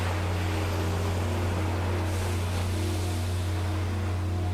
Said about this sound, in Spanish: Oímos las olas de la orilla cuando rompen.